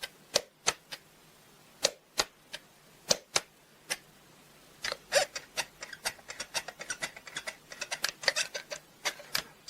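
The fold-down barrel of an Umarex Trevox air pistol is worked closed, producing a string of sharp mechanical clicks and snaps that start sparse and then cluster densely, close up and crisp, with no voices.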